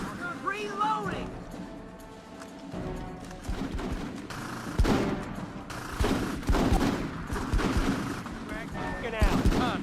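Heavy gunfire in a combat video game demo, repeated sharp shots and machine-gun bursts throughout, loud and close, with shouted voices and radio-style commands overlapping.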